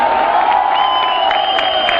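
At a college standup comedy and mimicry show, a large audience breaks into loud, continuous cheering and applause, a dense roar of clapping and voices heard throughout.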